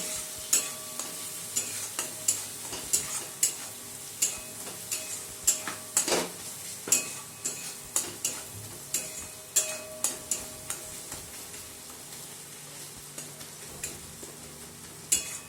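Chili powder and coriander powder frying in oil, stirred with a spoon that scrapes and taps the pan in a quick regular rhythm over a soft, steady sizzle.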